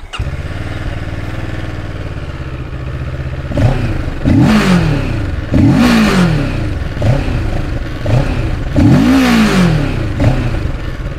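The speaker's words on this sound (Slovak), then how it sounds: "Samozrejme si to aj naštartujeme." A QJMotor SRV 700 inline two-cylinder cruiser engine fires up and idles, then gets three sharp throttle blips that rise and fall. It is loud and close, with no talking.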